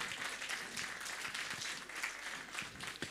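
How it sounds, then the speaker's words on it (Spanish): A church congregation applauds a choir during a Sunday service, with dense, fairly faint clapping that holds evenly throughout. "vamos a dar fuertes aplausos al coro Suyaña"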